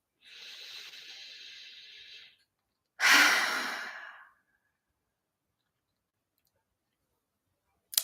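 A person draws a long, deep breath in during a tapping session, then lets out a louder breath with a rougher edge. The breaths are close and alone, with silence after.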